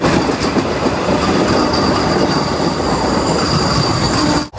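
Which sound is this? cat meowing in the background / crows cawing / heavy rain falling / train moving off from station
train moving off from station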